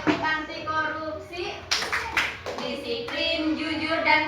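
Children chant a rhythmic anti-corruption clapping cheer in Indonesian, sharp hand claps punctuating the chanted voices in a lively, close classroom-style group.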